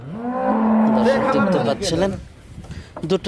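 A large, strong dairy cow offered for sale gives one long, loud, low moo that slowly fades out, with people talking nearby and over it.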